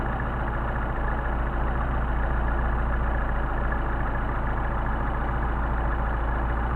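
An engine fitted with a Solex carburettor idles steadily and loudly up close during tuning, a continuous low rumble with no talking.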